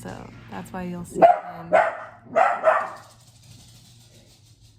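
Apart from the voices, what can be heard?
dog barking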